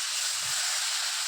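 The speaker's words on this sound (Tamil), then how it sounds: "தண்ணி சேர்த்துட்டு சர்க்கரையை ஒரு 2 செகண்ட் நல்லா கொதிக்க விடுங்க" Sugar and water boil in an iron pan, a steady, loud hiss of bubbling that fills the short moment evenly, with nothing else heard.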